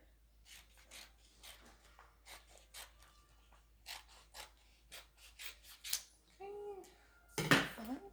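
Scissors snip through heat transfer vinyl in a string of short, crisp cuts, close and fairly quiet, ending with a louder rustle and clatter as the word is freed; no talking.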